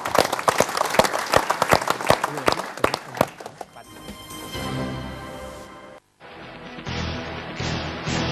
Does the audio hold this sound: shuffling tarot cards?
no